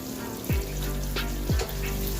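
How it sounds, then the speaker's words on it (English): Steady hiss of fish frying in hot oil, with a couple of low bubbling pops and faint clinks over the sizzle. "I've been frying fish for over an hour"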